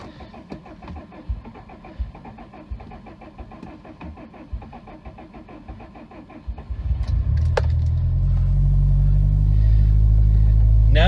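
A car engine at a dealer auction cranks with a steady, rapid stuttering rhythm for several seconds, then catches and settles into a loud, continuous close-up idle rumble.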